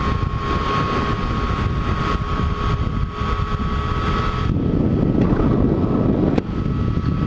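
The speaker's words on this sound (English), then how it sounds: "It's a little breezy tonight." Wind roars steadily past a Yamaha FJ-09 motorcycle on a breezy evening commute, a loud continuous buffeting rush with engine drone beneath it, growing heavier toward the end.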